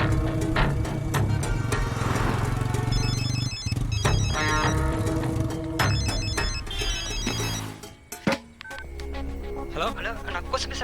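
A telephone rings after a call is placed, with repeated electronic ringtone bursts over a dense film soundtrack of music and noise, followed by a sharp pause and a low rumble, then more layered sound.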